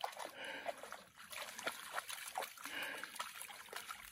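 Trickling water at a stream along a backpacking trail, a steady, close, bubbling dribble with small splashes that runs throughout at moderate level.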